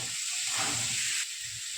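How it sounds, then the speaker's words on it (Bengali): Watermelon curry sizzles in oil in a pan as it is sautéed, a steady bright hiss with soft stirring scrapes underneath, close up. "আমি আর একটু কষিয়ে নিচ্ছি।"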